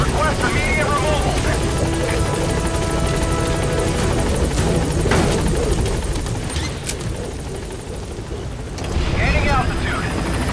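A helicopter in Metal Gear Solid V: The Phantom Pain arrives at a landing zone with a loud, continuous rotor roar that swells near the end, while game sound effects and voices play over it.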